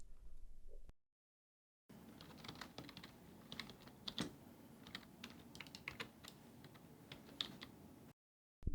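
Fingers tap on a computer keyboard in a quiet room, a run of light, irregular clicks of moderate loudness between stretches of silence, with no talk.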